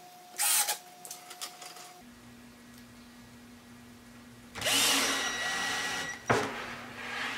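A power drill driving 1.5 inch wood screws into cart parts in a woodworking shop, with two separate whirring bursts, a short one near the start and a longer one later, separated by quiet hum.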